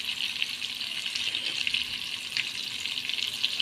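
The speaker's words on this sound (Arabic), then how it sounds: "هخلي البصله تاخد لون خفيف كده، بس لون ذهبي خفيف كده" Onions frying in a pan until lightly golden, for a potato and chicken tray dish, give a steady, even sizzle and crackle that runs alone without a break.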